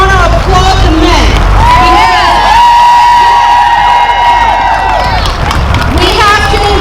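Crowd at an outdoor women's march rally cheering and shouting loudly at close range, with raised voices and a continuous roar of mixed whoops and clapping throughout.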